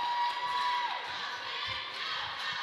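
Crowd at a Friday afternoon girls high school basketball game, a loud wash of cheering and shouting voices from the stands, with a whistle-like tone near the start, fading slightly after the first second.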